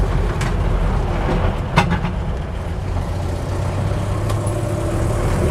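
Land Rover Series 2a 88-inch hardtop pulling away in third gear, a steady low engine drone with drivetrain rumble and a few brief clunks, close and continuous with no talk.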